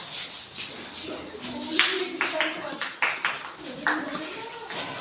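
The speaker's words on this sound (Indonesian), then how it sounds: "Tepuk tangan" Scattered hand clapping from a classroom group of students, fairly faint and uneven, mixed under ongoing chatter and voices.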